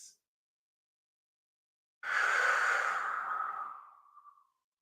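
Deep breath during a qigong exercise, one long exhale lasting about two and a half seconds after a quiet pause, close and fairly loud, trailing off softly.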